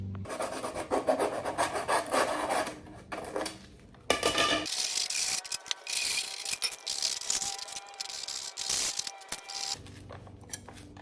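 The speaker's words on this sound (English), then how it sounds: "I'm just gonna sand around the edges here so they fit a bit better" Rough, rasping scrapes of sanding against the edges of PVC pipe, in uneven bursts with a short pause partway, close and fairly loud.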